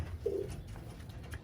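A single soft coo from a Birmingham Roller pigeon in a breeding loft, brief and fairly close, with a faint low background hum.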